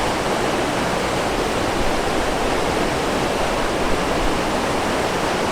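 Owharoa Falls, a waterfall in New Zealand, pours in a steady, dense roar of rushing water, loud and unbroken, with no voices.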